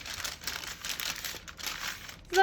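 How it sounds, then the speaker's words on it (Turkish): Greaseproof baking paper is folded by hand into an envelope shape for an oven kebab, giving a steady run of soft crinkling and crumpling close up, with a brighter rustle at the very end. "ilk olarak şu şekilde bir tarafını katlıyoruz kağıdımızın"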